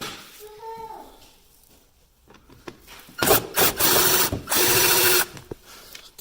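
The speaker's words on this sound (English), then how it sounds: "I'm going to go ahead and put these Torx head screws back in here" A power driver runs Torx head screws into a car's windshield wiper motor mount, giving a few short whirring bursts after quiet handling noises.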